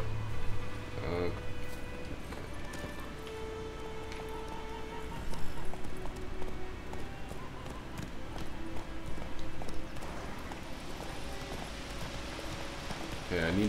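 Rhythmic hoof clip-clop of a horse moving at a steady pace in The Witcher 3: Wild Hunt, with a continuous synthetic game-style background hum underneath.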